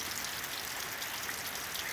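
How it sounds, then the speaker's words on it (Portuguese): Steady rain falling in heavy, continuous hiss with dense droplet texture, uniform and close throughout the short stretch. "começou a chover mais. Aí não parou mais também."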